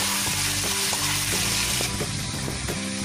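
Mushrooms frying in a pan with cinnamon, cloves and black pepper, a loud steady sizzle broken by repeated clinks and scrapes of a spoon stirring them, close by with no talking.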